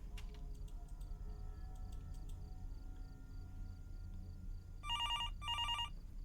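Telephone ringing in the horror video game Fears to Fathom: two short electronic ring bursts near the end, clear over a low steady ambient hum, with faint ticking clicks earlier.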